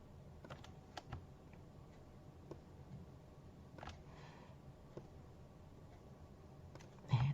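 Scattered, quiet keyboard key presses from a computer running Photoshop, sparse clicks spread unevenly with a slightly louder tap near the end over a faint room hum.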